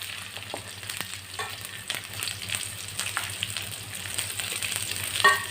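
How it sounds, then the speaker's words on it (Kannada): Garlic frying in oil, a continuous crackling sizzle with occasional stirring scrapes and light pops, close up and moderately loud with no talk. "ಬೆಳ್ಳುಳ್ಳಿ ಫ್ರೈ ಮಲ್ತು ನೋಡು"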